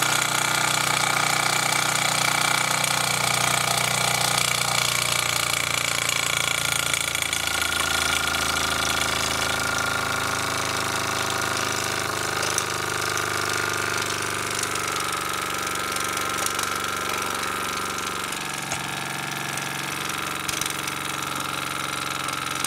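A KMV overhead flywheel model engine running at full throttle, a loud, steady, dense buzzing roar that holds constant and alone throughout, with only a slight dip in tone near the end.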